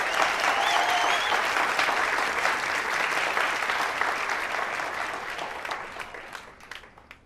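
An audience claps for Akgün at a talk or stage event, a dense burst of applause that holds strong and then gradually thins and fades out.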